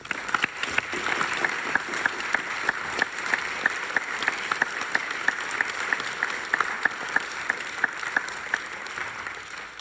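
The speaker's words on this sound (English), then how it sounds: "let's give Mike a round of applause for a life very well lived." A room full of people applauding steadily for several seconds, dense clapping with sharper individual claps standing out, no talking over it.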